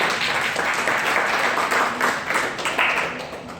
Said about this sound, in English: you guys can clap